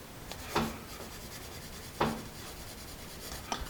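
A Case Mate Premium wood pencil scratches and rubs across paper in three short strokes, faint and close, with quiet gaps between them and no talking.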